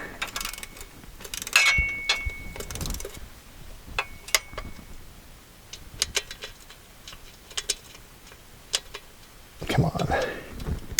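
Ratchet tightening the transmission pan bolts on a VW Touareg, bursts of quick metallic clicking and scattered clanks close by, with intermittent talking between the bursts.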